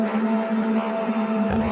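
A dark electric-current atmosphere in a tense hybrid trailer score: a steady, dense buzzing hum with a sustained low tone that holds throughout at an even level and swells slightly at the end.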